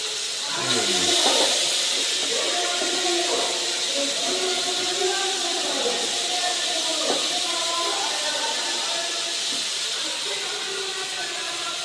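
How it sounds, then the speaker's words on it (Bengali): Lentils fry in a pan for dal bhuna, giving a loud, steady hiss with a sharper burst near the start. Low voices can be heard faintly beneath it. "এই ডালটা ভালো করে আমরা ভেজে নিব"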